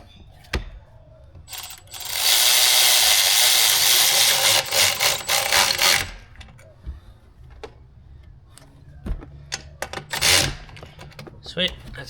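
A hose clamp being tightened on an intake elbow pipe of an MK7 gives a loud, close burst of rapid whirring and ratcheting for several seconds, then scattered clicks and a shorter second burst.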